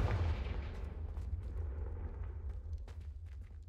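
A Confringo fire spell blasts candelabras in the Hogwarts Legacy video game, a deep, booming burst that rolls on as a dense, rumbling roar with scattered crackles and no voices.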